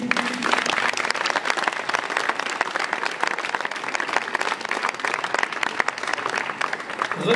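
Audience at an evening event applauding the volunteers, sustained dense clapping from a crowd, steady and fairly loud throughout.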